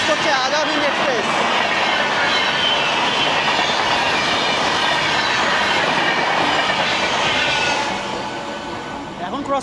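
Azad Express passenger train passing close by, a loud continuous rumble with clickety-clack of wheels on rail joints and some squeal, easing off slightly near the end.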